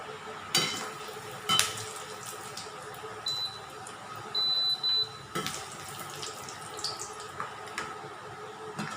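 Peanuts frying in hot oil for a crispy peanut masala, a low continuous sizzle broken by loud scraping stirs and clatters of a utensil against the pan.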